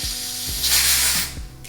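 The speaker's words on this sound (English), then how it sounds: "I'm just spraying a little and going around there, making sure not to spread too much into the hair" Spray bottle misting adhesive around the edge of a lace wig, a short hissing spray burst in the middle between clicking pump and mechanism sounds, close and fairly loud.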